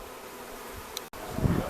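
A honey bee swarm hums around the microphone, a close buzzing drone that briefly cuts out and then swells louder as bees pass near.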